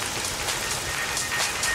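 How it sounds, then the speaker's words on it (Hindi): Artificial rain sprayed by fire brigade hoses for a film scene, a dense, steady patter of water drops hitting the ground, close and even, with no voices. "नकली बारिश, बारे की फायर ब्रिगेड, टोटल फिल्मी।"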